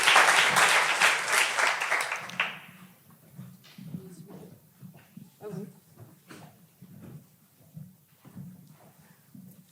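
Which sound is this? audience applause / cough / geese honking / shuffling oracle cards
audience applause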